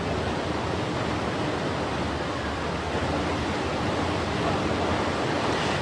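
Boulder Creek running high and fast after flooding: a loud, constant roar of rushing water, broad and unbroken throughout, with no talking.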